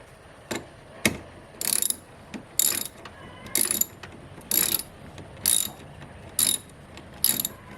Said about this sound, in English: All you gotta do is spin the wrench around and around.